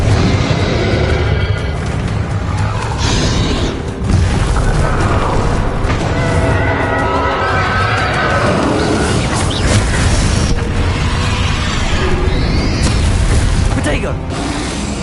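Loud rumbling booms and crackling bursts from Confringo fire spells in Hogwarts Legacy pile up over a sustained, mechanical-sounding din, with faint voices mixed beneath the blasts.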